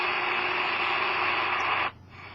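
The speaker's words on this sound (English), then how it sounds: "Okay, there's WWV at 10 megahertz. Not as noisy background noise, but I don't hear anything." A Grundig G2 shortwave radio tuned to WWV at 10 MHz gives a steady, loud hiss of static with no audible signal, cutting down abruptly to a quieter noise floor near the end.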